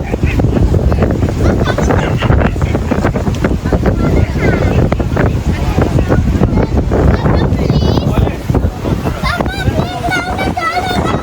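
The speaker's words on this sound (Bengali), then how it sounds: "জাস্ট হাওয়াটা বেরোচ্ছে" Wind gusting at a seaside resort hotel in Digha, a loud continuous roar buffeting the microphone with faint surf behind and occasional voices.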